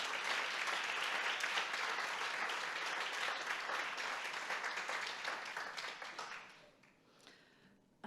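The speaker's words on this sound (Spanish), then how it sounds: "igualment l'aplaudirem i celebrarem la seva menció" An audience at an award ceremony for a gender-research thesis prize claps in a dense, sustained burst of applause that gradually thins and fades out over the last seconds.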